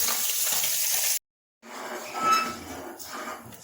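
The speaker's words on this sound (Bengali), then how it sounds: "আর্ধেক পুঁটি মাছ ভাজা হয়ে গেছে, বাকিগুলো ভাজা হচ্ছে।" Small puti fish frying in oil, a bright crackling sizzle that cuts out briefly and then resumes with a few clinks of a utensil against the pan.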